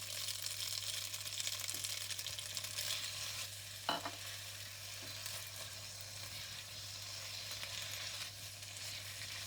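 Kway teow noodles with sambal and dark soy sauce are stir-fried in a steady, fairly quiet sizzle under a low constant hum, with one sharp clank of a utensil partway through and soft stirring scrapes.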